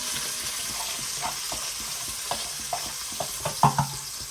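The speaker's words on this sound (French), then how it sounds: "J'ai lâché mes oignons. Je les laisse suer" Chopped onions sweat in a frying pan for a shrimp curry, giving a continuous close sizzle broken by scraping stirs and a few louder clinks of the utensil near the end.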